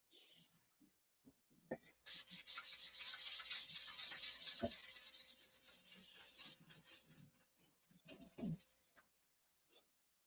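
Sandpaper sanding a surface by hand, a close steady rasping stretch of several seconds that fades into a few shorter rubbing strokes, with quiet sounds before and after.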